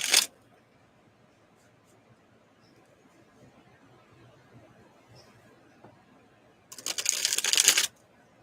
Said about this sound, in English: You guys see me shuffling them real good.